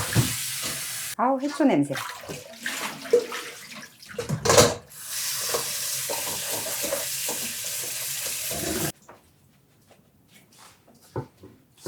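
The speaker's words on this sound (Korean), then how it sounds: "이거는 찬물에 헹궈야 돼요." Cold tap water runs and splashes over freshly blanched seaweed as it is rinsed, a steady rushing stream for several seconds that stops abruptly, with a voice speaking briefly over it.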